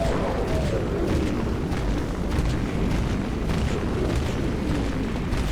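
Dense, continuous rumbling explosions from the Dawn Launcher explosive weapon in Dead Frontier, overlapping booms and bursts filling the whole stretch at steady loudness.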